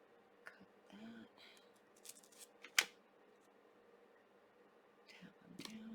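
Scissors snip close by during pendant crafting, one sharp crisp cut standing out amid small rustles and clicks, with a few softer snips around it and quiet handling noise.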